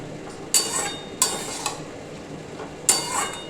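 Boiled papaya, chana dal and potato being sautéed in a pan, with three sharp scraping stirs rising over a low sizzle, each stroke ringing briefly before fading.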